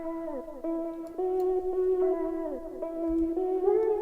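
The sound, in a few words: filtered vocal chop in a dance music track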